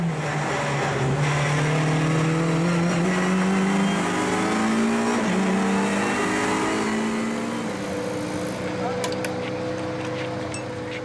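Renault Clio and Ford Focus race cars at the Assen circuit in the 2011 Dutch Supercars series give a loud, sustained engine drone that rises and shifts pitch through gear changes, heard close up under continuous commentary.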